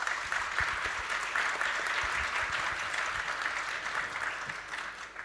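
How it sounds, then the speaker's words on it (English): An audience at a security-policy conference panel claps for the panelists, a dense, even roar of applause that holds for several seconds and gently fades at the end. "I want you to ask a round of applause for the great panelists we had today"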